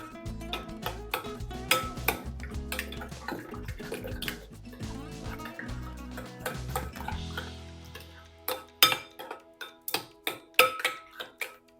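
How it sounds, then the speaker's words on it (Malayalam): Salad of cucumber and capsicum salted with a pinch of salt being mixed in a bowl, giving a rapid run of clinking, ticking and wet tossing clicks, busier at first and then sharper, spaced taps near the end, close by with no talk. "ഇനി ഇതെല്ലാം കൂടെ ഒന്ന് മിക്സ് ചെയ്യാം."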